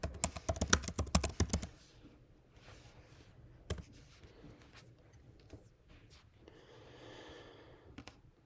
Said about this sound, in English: you're going to type in your search term.